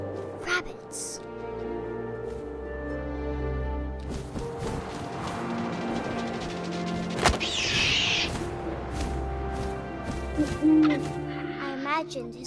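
An owl hoots within the game What Remains of Edith Finch, its calls set against a dense bed of game music and ambience with occasional sharp knocks.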